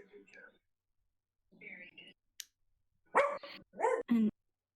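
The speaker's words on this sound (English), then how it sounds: "y'all hear my dog?" Dog barking somewhere in the room during an online tabletop role-playing session, a few short sharp barks toward the end following quieter faint sounds, with voices nearby.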